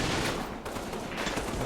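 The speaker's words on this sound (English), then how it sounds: "That machine gun is annoying me as well." Dense rattling bursts of machine gun fire from the WWII war game Combat Mission, near and continuous, filling the whole moment without talk.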